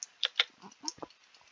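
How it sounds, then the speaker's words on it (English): A clanky computer keyboard gives about half a dozen crisp, irregular keystroke clicks, close and fairly quiet, with no talking. "Sorry about my clanky keyboard."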